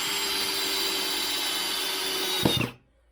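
A Hart drill on its low-speed setting drives a screw into wood, a steady whirring hum close to the mic that ends in a short rattling bite before cutting off to silence.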